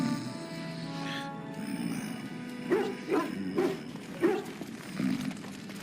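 A dog barks in the fantasy video game Dragon Age: Origins, giving several low, gruff woofs in an uneven sequence over a soft ambient game soundtrack, with no speech.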